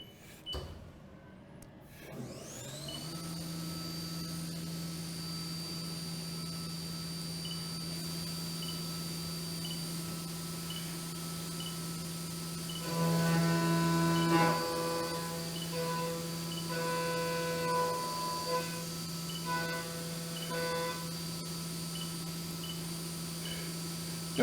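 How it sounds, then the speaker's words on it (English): A Haas Mini Mill 2 CNC machine cuts a relief with a half-inch cutter, a steady spindle whine and hum that holds for a long stretch and then gains a louder chattering cutting tone partway through, with no talk. "And then gonna cut the relief on the other side with the 1/2-inch cutter"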